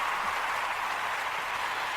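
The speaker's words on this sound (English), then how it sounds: "Round of applause." Studio audience applause greeting a guest on a talk show, a steady broadband wash of clapping held at an even level throughout, fairly soft and with no speech over it.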